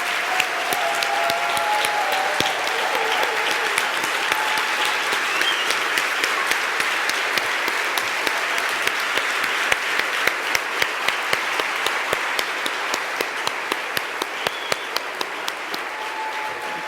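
Sustained applause from a large audience at a national leadership summit general session, a dense steady roar of many hands clapping for nearly the whole stretch, with some sharper individual claps standing out near the end.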